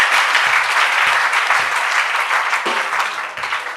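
A church congregation bursts into sustained, loud applause that fills the space evenly, with a slight tapering toward the end and a few faint voices mixed in.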